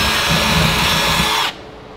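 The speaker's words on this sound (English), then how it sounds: "First we're going to bore those out because they're a little bit tight." A power drill whines steadily at close range while boring out tight bolt holes on a steel drum smoker, running loud for about a second and a half before cutting off and spinning down.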